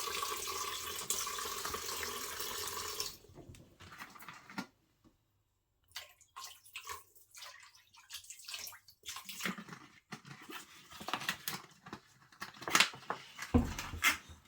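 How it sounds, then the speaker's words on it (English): Fish being washed under a running kitchen tap, a steady gush of water for about three seconds, then intermittent splashing and handling noises after a short pause, with no talking. "So first guys, I'm just going to wash the fish."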